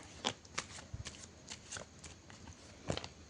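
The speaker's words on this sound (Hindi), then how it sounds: "कार्ड शफल कर लेते हैं" Tarot cards are shuffled by hand, producing soft papery riffles and slaps in quick irregular bursts, close and quiet with no talking.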